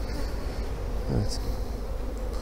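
Male honeybees (drones) buzz steadily in a dense, close drone at a hive, with a brief louder rising buzz partway through.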